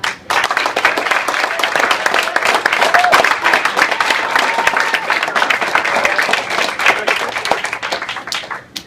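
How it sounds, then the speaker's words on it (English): Crowd at a season party giving a big round of applause, many hands clapping loudly and continuously for several seconds, with a few faint voices mixed in. "I want a big round of applause for their efforts"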